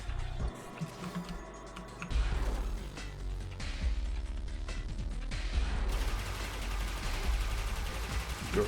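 Akstiletto Prime dual pistols fire in rapid, dense bursts in the video game Warframe, a near-continuous stream of shots with impacts and mechanical clatter.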